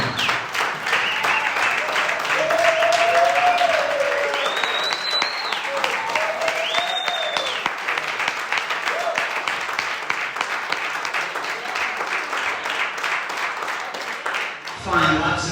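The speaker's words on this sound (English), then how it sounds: "can we clap hands for Brother Hlulani?" An audience at a lecture claps for the speaker Brother Hlulani in sustained applause, with voices and whistles rising over the clapping throughout.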